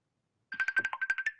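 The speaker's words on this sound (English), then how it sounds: "my phone was ringing here" A mobile phone ringtone rings alone after a short silence, a looping electronic melody of about nine quick, evenly spaced notes over a steady tone, moderately loud and close.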